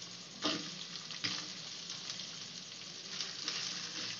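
Onion and capsicum sizzle and fry in a pan over ginger, a steady close hiss broken by a few sharper crackles and stirring scrapes, with no talk.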